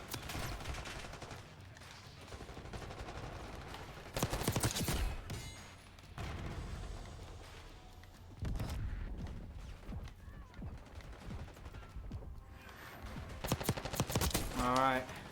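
Bursts of automatic gunfire from Call of Duty Black Ops 6 beta multiplayer come in several loud, separated volleys, with quieter game sounds and occasional talk between them.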